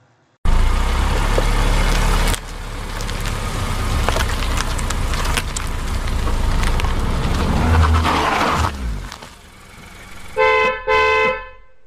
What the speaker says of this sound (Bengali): একটু বাদেই গাড়ি এসে দাঁড়ায় বিনয়বাবুর বাড়ির সামনে।